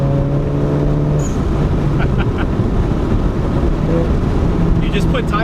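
A modified Honda Civic Type R on new RE71R tires accelerates, a loud steady engine drone with wind buffeting heard from inside the car, rising tone early on and faint voices under the noise.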